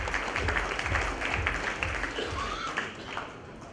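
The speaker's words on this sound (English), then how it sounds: "A big round of applause for Team Walmart, ladies and gentlemen." Audience at a NASSCOM GCC Awards 2018 conference ceremony applauds award winners, a dense, steady wash of clapping lasting the whole stretch, with some crowd noise mixed in and no clear speech on top.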